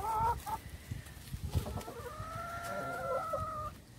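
Backyard chicken flock, with new birds added to the old ones, clucking and calling: short clucks at first, then a long, wavering drawn-out call that rises and holds, fairly close over quiet yard noise.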